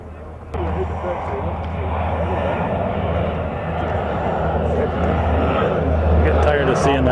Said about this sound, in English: Getting tired of seeing that plane.